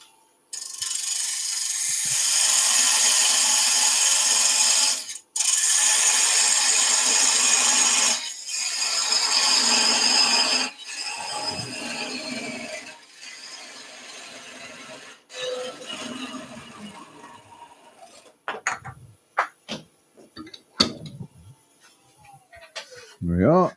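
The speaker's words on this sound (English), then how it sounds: "Little bit of hollowing out." A wooden bowl hollowed out on a lathe, the gouge cutting with loud, sustained rasping bursts broken by short pauses, then tapering into scattered scrapes and knocks near the end.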